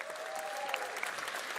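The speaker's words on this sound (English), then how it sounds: "One applause for them, please," A short burst of applause from an esports tournament audience, dense clapping at moderate volume with a faint tonal sound underneath.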